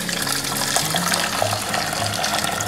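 Hot water is poured into a pot for cooking rice, a steady running, splashing stream with no break, close by and moderately loud, with no talking over it.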